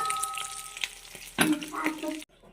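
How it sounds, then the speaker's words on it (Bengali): Fish frying in oil in a pan gives a close crackling sizzle with clatters of handling, then cuts off abruptly near the end. "এই যে আবার মাছ ভাজা হয়ে গেছে, এখন নামাই নেবো"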